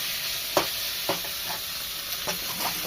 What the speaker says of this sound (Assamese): এয়া মাংসখিনি ধুনীয়াকৈ অলপমান ৰঙাকৈ ভাজি ল'লোঁ।